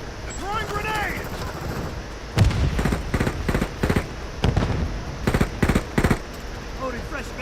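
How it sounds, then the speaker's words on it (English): A voice calls out in a video game match, then a series of sharp, loud blasts and bursts of weapon fire follow at uneven intervals, close and punchy against a low background rumble. "Throwing grenade!"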